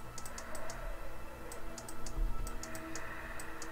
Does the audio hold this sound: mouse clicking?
yes